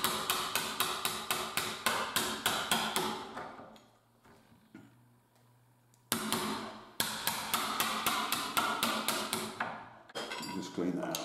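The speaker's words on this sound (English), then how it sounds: "So I'll just get my, I think that's a 3/4 chisel, is it 15 mil, 3/4 chisel, and just tap that." A hammer taps a 3/4 inch chisel to cut a recess for a tubular mortice latch in a door. Quick, evenly spaced metallic taps come in two close, crisp runs, separated by a short quiet pause.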